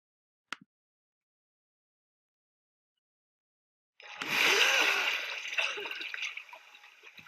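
Film scene from Gravity: after a single sharp click and near silence, a character plunges into water with a sudden loud splash, followed by several seconds of churning, gurgling, bubbling water that gradually settles.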